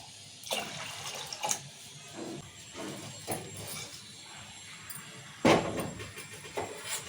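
Water poured onto rinsed toor dal in a kitchen comes as intermittent close splashes and gushes over a low watery background, with a sharper, louder burst about two-thirds of the way through and no talking.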